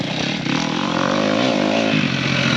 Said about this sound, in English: Ginger Billy let me take his KTM 250 for a rip on his dirt bike track on his property